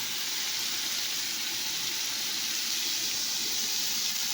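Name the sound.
chili and soya chunks sizzling as added to pan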